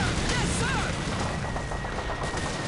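Dense Call of Duty 2 battlefield din at Pointe du Hoc on D-Day, with continuous overlapping gunfire and grenade blasts filling the scene, loud and unbroken, mixed with shouted voices.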